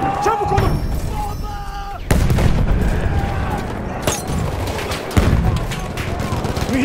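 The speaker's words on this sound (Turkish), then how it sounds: "Düşman makinalı tüfeği. Orada bir makinalı tüfek var." An enemy machine gun fires at Achi Baba in a World War I video game, with bursts of gunfire and heavy thuds. The shots come in clustered volleys amid battle noise, with shouted voice lines heard over them.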